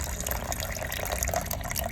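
First rinse water from rice being poured out for use on plants, a continuous close splashing, trickling stream with small drips, steady and fairly loud, no talking.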